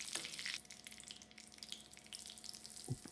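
Mustard seeds, fenugreek and curry leaves splutter in hot oil, giving a quiet, close crackle with scattered pops and a brief louder burst near the start and again toward the end.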